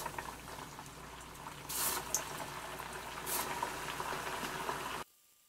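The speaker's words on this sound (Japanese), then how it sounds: "それでは170度の油で揚げていきましょうか" Taro pieces coated in potato starch deep-frying in 170-degree oil in a tempura pot, a steady bubbling, crackling sizzle with brief louder surges, cutting off sharply near the end, no voices.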